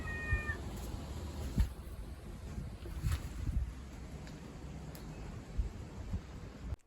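A loud male cat meows outdoors in cold, stormy weather in Greece; a short, faint meow comes at the start over steady wind-like background noise, with another faint cry later.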